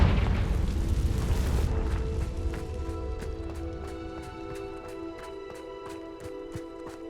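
A Confringo fire spell explodes in the video game Hogwarts Legacy: a loud, dense blast fills the first second and a half, then gives way to a ringing, shimmering magical tone with faint ticking pulses that slowly fades.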